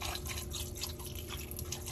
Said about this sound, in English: I'm gonna go ahead and pour some vinegar